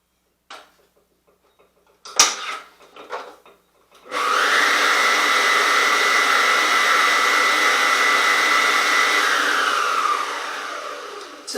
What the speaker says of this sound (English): Mix your butter and your oil together.